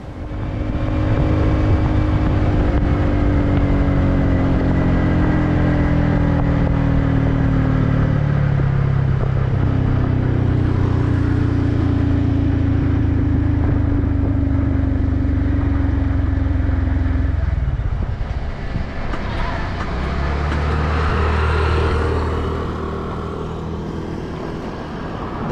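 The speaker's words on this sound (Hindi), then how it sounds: "तो आइए चलते हैं इस बाइक को लेके बाहर" A TVS Ronin motorcycle rides through city streets with a loud, continuous engine drone that shifts pitch as it accelerates and changes gear, with road noise and a brief drop before revving again.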